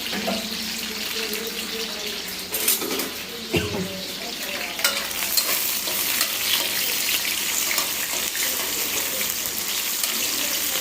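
Steady loud sizzling of chicken frying in a pan for a khichuri dish, with occasional stirring clatter and a bit of running water, no voices.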